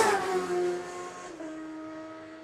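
A racing motorcycle at the Cookstown 100 road race sweeps past, its engine note loud at first and then sliding lower as it fades into the distance.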